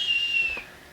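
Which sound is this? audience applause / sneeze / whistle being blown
whistle being blown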